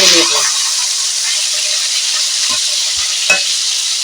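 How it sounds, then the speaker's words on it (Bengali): Rohu fish pieces fry in hot oil in a wok while being turned, a steady loud sizzle running throughout with a few brief scraping clinks of the spatula near the end. "রুই মাছের পিসগুলো উল্টে পাল্টে ভেজে"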